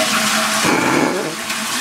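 An overwater villa toilet at the Intercontinental Bora Bora Resort flushing: a loud, close rush of water that surges midway and then settles into a steady gurgling drain, heard alone.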